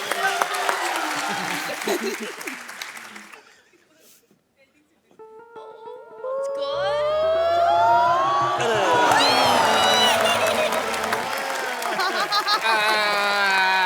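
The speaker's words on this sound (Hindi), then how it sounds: "जोरदार तालियां फॉर द नेक्स्ट प्लेयर।" A television comedy show studio audience claps and cheers loudly, with a brief quiet lull before the applause swells again, mixed with whoops and some talking.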